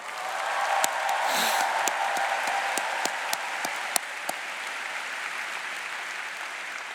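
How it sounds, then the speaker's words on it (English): Convocation audience at a new student welcome event applauding steadily, a broad wash of clapping with scattered sharper claps and faint cheers, filling a large hall for several seconds before easing slightly. "How about a cheer for your Welcome Week leaders?"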